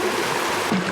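Spring water flows straight down from the hills at Jambhavali village, a steady close rushing and burbling that runs without a break for the whole moment.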